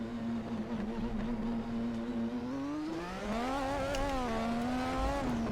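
A Lotus F1-style car engine in Assetto Corsa, droning steadily at a high pitch, then revving up and down through rising and falling tones, close and loud with no talk.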